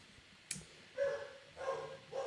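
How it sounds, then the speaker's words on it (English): Small bursts of dog-like barking and whimpering heard faintly in three short yelps, with no talk. "The dog is very excited about this particular piece."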